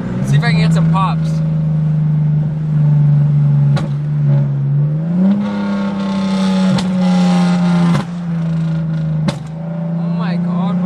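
Car engine revving hard in a steady, loud drone with sharp pops breaking through, the pitch climbing and dropping across the rev, while people talk over it close by.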